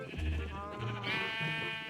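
Sheep in Minecraft Bedrock Edition bleat in a few wavering, nasal cries, one overlapping another, close and clear with low background game sounds.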